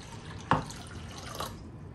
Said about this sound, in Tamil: அரைச்சதுக்கப்புறம் இப்போ இதை தண்ணி ஊற்றி மிக்ஸ் பண்ண போகிறோம்